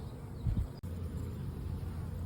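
Honeybees in an opened hive at the brood box, a low, steady buzzing drone, faint and close, with a brief knock partway through.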